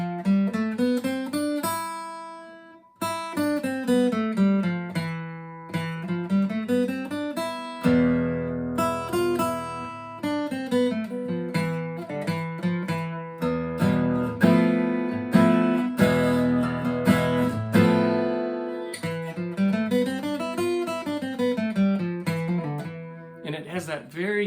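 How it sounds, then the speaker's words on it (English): An E Phrygian scale runs on guitar from E up to E and back, each note plucked one at a time in a steady stepwise rhythm. The playing is close and clear with no talking. "And so here's what E Phrygian looks like."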